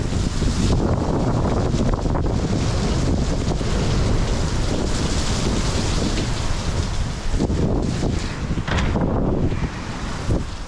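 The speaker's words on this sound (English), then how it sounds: "We've got zero visibility due to rain. Just straight water." Heavy rain pours down in a constant roar while wind buffets the microphone, loud and unbroken throughout.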